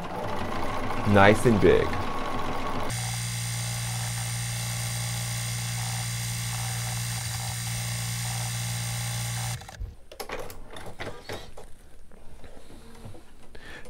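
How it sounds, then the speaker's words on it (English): Bernina 770 Plus embroidery machine stitching out a large letter K through two layers of fabric, a steady mechanical hum with a rapid needle rhythm that runs for several seconds, then stops, with speech briefly at the start. "it will stitch out this letter K"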